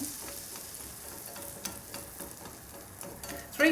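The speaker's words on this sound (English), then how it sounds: "Wait till it's sizzling." Steady, soft sizzling from duck livers frying in a pan, a continuous crackle with a small clatter at the very end.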